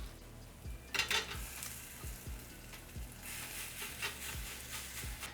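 Chickpea flour batter fritters frying in sesame oil in a pan, a steady close sizzle with occasional spatula scrapes and light pan knocks.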